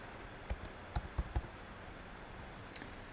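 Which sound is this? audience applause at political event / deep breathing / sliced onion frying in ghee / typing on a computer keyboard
typing on a computer keyboard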